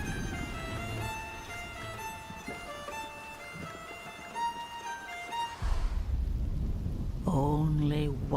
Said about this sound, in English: So let's enjoy the storm a moment.